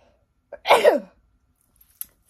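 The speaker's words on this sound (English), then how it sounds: "I think I'm gonna sneeze" A single sharp sneeze bursts out close by after a short intake of breath, followed by quiet with faint small noises.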